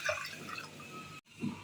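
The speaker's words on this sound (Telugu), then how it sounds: "మునిగేంత వరకు నీళ్లు పోసుకొని" Water trickles and splashes as it is poured over washed ingredients for carrot dosa batter, a soft steady pour with a brief gap near the end.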